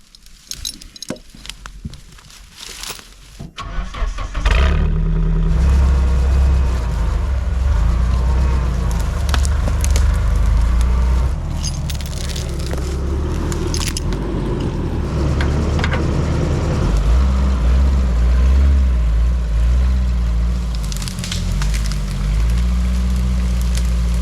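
A truck engine starts and then labours steadily at low pitch, pulling a tree with chains while gathering winter firewood; the heavy rumble stays close and continuous, with a brief rattle and clank before the engine fires.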